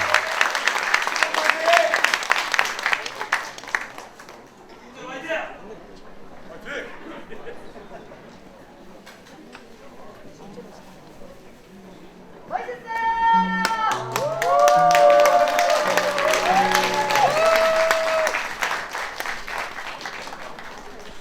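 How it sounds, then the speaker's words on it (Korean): Audience applause greets a choir, the Suncheon 6.15 Choir, taking the stage at a peace and reunification gathering. Clapping starts faintly and swells into a loud, sustained crowd ovation, with a voice announcing over the start. "큰 박수로 맞아주십시오."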